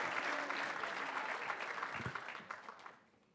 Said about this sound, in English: I'll give a round of applause for that